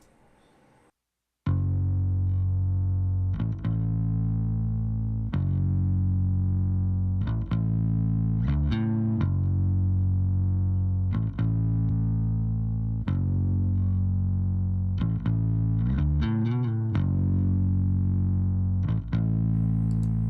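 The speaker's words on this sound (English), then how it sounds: "So here's what the bass sounds like." A distorted, effects-laden electric bass plays a riff of sustained, gritty notes with short breaks, loud and close, with no voices.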